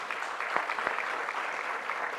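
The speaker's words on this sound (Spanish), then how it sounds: "Vamos a darle un aplauso de bienvenida al doctor Paul Cavalier Cabrera." Welcoming applause from a seminar audience greets an arriving doctor, a continuous, even patter of many hands with a couple of sharper individual claps standing out near the start.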